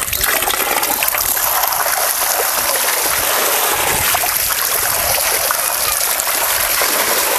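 Ridge gourd being washed under a running tap, a loud steady gush and splash of water continuing throughout without any talk.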